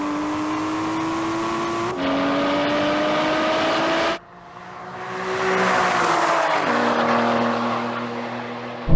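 Aston Martin Valkyrie, Vanquish and V12 Vantage engines scream through rising revs with clear gear-shift breaks in a drag race, one steady high-pitched howl climbing, dropping out, then building again loud and close.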